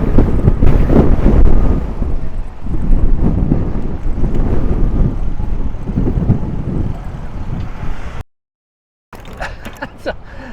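Heavy wind buffets a microphone outdoors with loud, continuous low rumbling and gusts, briefly cutting to silence before the roar returns.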